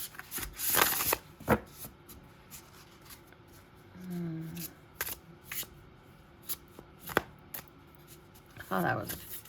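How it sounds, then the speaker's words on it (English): Close-up card shuffling in irregular bursts, riffles and snaps separated by pauses, with a voice briefly murmuring in between. "Oh, that was a pretty poor shuffle job, wasn't it?"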